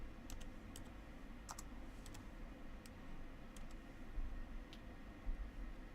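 Keys on a computer keyboard tap out a CAPTCHA in a quiet room, a sparse, irregular series of soft clicks over low background hiss.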